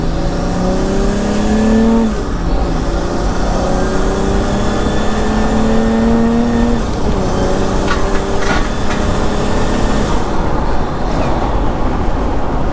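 A 1980s diesel car with a 2.8-litre engine accelerates hard, its loud close engine note rising steadily in pitch through the gears with rough mechanical clatter and no talk.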